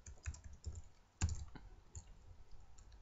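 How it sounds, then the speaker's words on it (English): Quiet, scattered keystrokes on a computer keyboard, a short irregular burst of soft clicks typing a single word. "I'll type in tutorial."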